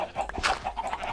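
Minecraft chickens clucking in several short, close bursts, with no talk over them.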